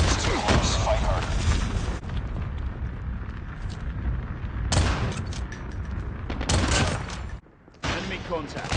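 In Call of Duty Mobile, a Kilo rifle fires in loud, rapid bursts of gunfire. The bursts come in several clusters with short lulls between them and one brief near-silent gap.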